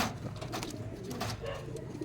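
Low, soft cooing of pigeons repeats over a constant rumbling background, with a few faint chirps mixed in.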